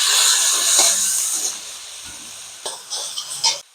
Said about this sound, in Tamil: நம்ம பூண்டு பேஸ்ட்டை போட்டு நல்லா வணக்கணும்